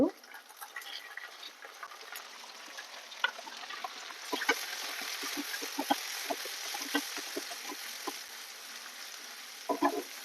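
Chopped tomatoes sizzle and crackle in hot oil in a pan with fried onions and cashews for vegetable biryani, a steady close frying hiss with scattered pops and stirring clicks throughout.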